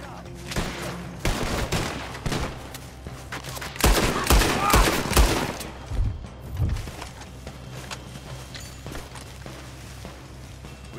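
Gunfire in the western game Red Dead Redemption 2, repeated rapid shots and a dense cluster of loud bangs in the middle, with hoofbeats and game ambience around them.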